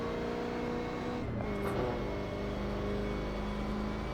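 A Holden Commodore V8 Supercar engine in a racing video game at The Bend, with a loud, close engine drone that dips briefly on a brake tap, then climbs again as the throttle reopens.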